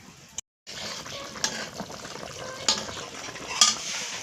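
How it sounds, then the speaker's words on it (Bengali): Rohu fish curry with okra and potatoes bubbling in a pan, a steady close simmering hiss marked by a few sharper clinks and spatters, with no talk. "এখন কিছুক্ষণ জাল দেবো, আলুটাও সিদ্ধ হবে"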